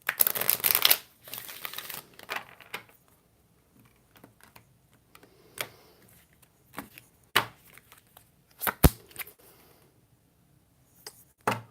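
An Egyptian oracle card deck is shuffled and cut, making a burst of riffling card flutter at first, then scattered soft taps, slides and snaps of cards, close and fairly quiet, with no speech.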